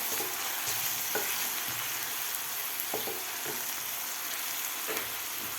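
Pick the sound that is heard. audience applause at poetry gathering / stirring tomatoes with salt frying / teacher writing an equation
stirring tomatoes with salt frying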